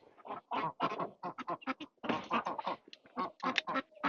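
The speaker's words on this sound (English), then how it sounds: "Oh, ducks come up for their food." Ducks quack in rapid, loud bursts close by as they hurry up for their food, a busy overlapping chorus with no gaps.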